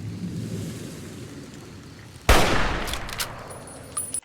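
Single sharp hunting rifle shot in the video game Fallout New Vegas, cracking loudly out of a quiet rumbling ambience partway through and trailing off in a short decaying echo, with faint clicks afterward.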